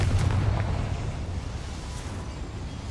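A fiery spell blast in a fantasy video game erupts in a mine, a deep rumbling explosion that booms loudly at the start and then rolls on as a long, fading roar with no voices.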